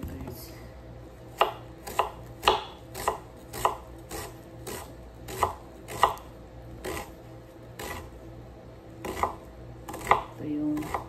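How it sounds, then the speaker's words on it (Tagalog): Knife chopping through food on a cutting board while preparing mashi, an Arabic stuffed dish: a series of sharp, close taps at an irregular steady pace, about a dozen strokes, with no talking. "Maghiwa muna ako guys"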